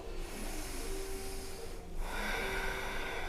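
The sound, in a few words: ujjayi breathing through the nose during yoga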